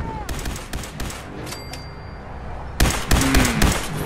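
Loud bursts of rapid gunfire from Far Harbor defenders in Fallout 4, crackling volleys at the start and again near the end, with a high tonal game sound in the quieter middle.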